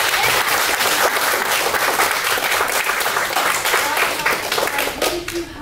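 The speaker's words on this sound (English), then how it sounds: "So all of them really deserve a round of applause and those certificates." An audience at a community center graduation ceremony bursts into sustained applause for the graduates, dense clapping that fills the room and holds steady before easing off slightly at the end.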